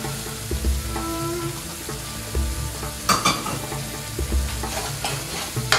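Pre-cooked lamb with a tablespoon of its stock sizzles and fries in a pan, with steady crackling, stirring clatter and a few louder scrapes, close and alone without talk.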